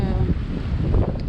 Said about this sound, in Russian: Здесь ветра очень сильные дуют.